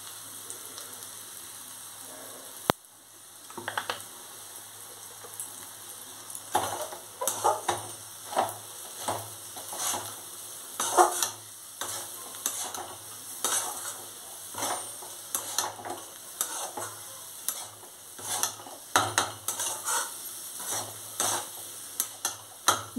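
Rice with a little turmeric powder stirred in a pan for basanti pulao, an irregular run of close scraping and clinking strokes of a spoon against the pan over a steady low hiss, with no talking.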